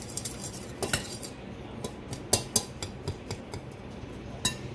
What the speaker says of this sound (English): I'm just going to stir this up before I add the cold butter in.